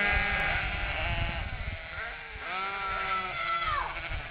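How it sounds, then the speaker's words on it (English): A flock of sheep bleating, with several overlapping wavering cries close by, loud and continuous throughout and no talk over them. "a flock of sheep took a stand about what we don't know"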